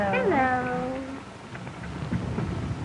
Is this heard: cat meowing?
yes